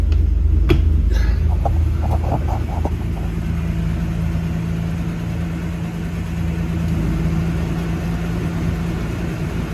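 A 1965 Ford Mustang with a 200 inline-six and T5 five-speed pulling away in first gear, a close, loud, rumbling engine drone that starts with a few clunks and then holds steady under load.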